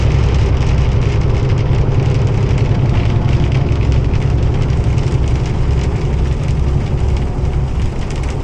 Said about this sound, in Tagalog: Lalaki ng patak dito ng ulan eh.